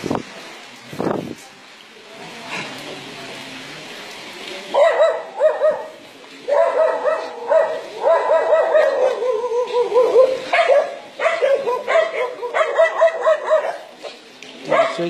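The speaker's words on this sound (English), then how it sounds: "Chased up by dogs." Several dogs bark persistently close by on a street in Santa Rosa, rapid overlapping barks continuing for many seconds after a brief voice at the start.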